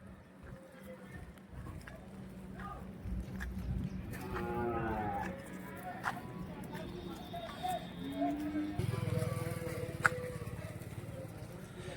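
Cattle lowing at a busy cow market in Vaniyambadi, with several close, drawn-out moos rising above a constant murmur of people talking, and a hoof or knock sounding here and there.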